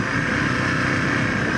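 A new Zontes 350T motorcycle ridden slowly along a wet dirt path, giving a steady, continuous engine drone mixed with broadband road and wind noise, close and constant throughout.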